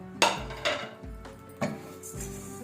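Whole coriander, cumin, cloves, cinnamon, fennel and ajwain dry-roast in a pan. A utensil knocks and scrapes against the metal in a few separate close clanks, with a soft rustle between them.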